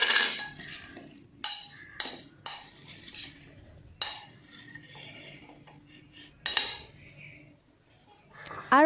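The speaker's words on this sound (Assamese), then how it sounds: "ভালকৈ সানি দিম" Spices and Kashmiri red chili worked into Assamese amla pickle with a spoon in a bowl, giving sparse, uneven clinks and scrapes up close, separated by quiet pauses.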